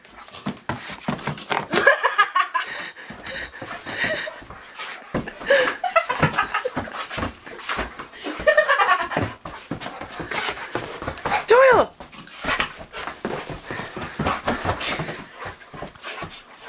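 Dogs pant and play noisily, with quick breathing, whimpers and scuffling over about seventeen seconds, while people cheer, talk and laugh throughout.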